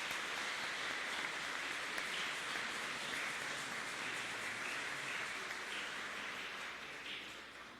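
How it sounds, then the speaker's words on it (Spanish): Sustained applause from a church congregation honoring the choir during a Mass, a dense, steady wash of clapping that fills the room and tapers off slightly toward the end. "tenemos que dar un fuerte aplauso al coro"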